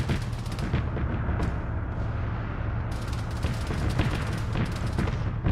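Cannon and gunfire in the military game Arma 3 during a British paratrooper campaign, with repeated distant booms and cracks over a continuous rumbling battle bed and no voices.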